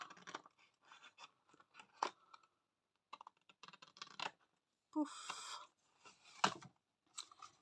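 Scissors snip through paper during a happy mail craft, giving several crisp cuts and rustles, close and fairly quiet, with a soft spoken word from a woman between them.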